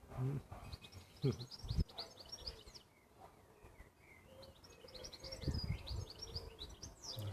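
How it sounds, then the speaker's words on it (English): Birds chirp and twitter in quick high bursts, fairly close, with a few soft low thumps and a quieter stretch in the middle. "Lovely sounds of the birds twittering away there."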